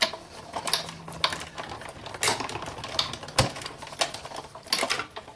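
A Big Shot manual die-cutting machine cranking stitched-shape framelit dies through paper, a run of ratcheting mechanical clicks and clunks with a dull thump midway, close and fairly loud.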